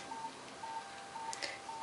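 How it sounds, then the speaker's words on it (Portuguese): A mobile phone rings with short repeated electronic tones in a steady even pattern, four beeps spaced about half a second apart, moderately loud over a faint background with a brief rustle in between. "meu telefone tá tocando"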